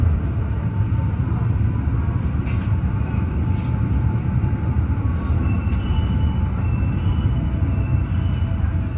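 The Matarmaja passenger train rolls along at speed, heard from inside a crowded carriage as a loud, steady rumble and rattle with faint squeals, continuous throughout.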